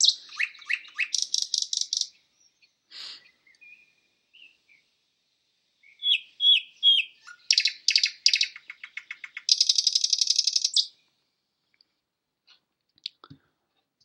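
Nightingale song alone: bursts of rapid trilled chirps and whistled phrases, bright and fairly close, separated by short silent pauses, with a long buzzy trill near the end.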